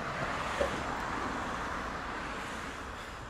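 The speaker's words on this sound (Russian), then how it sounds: "Машины, извините, если шумно" Steady street traffic with cars passing along a roadway, a continuous moderate rumble with wind on the microphone and no clear individual pass-bys.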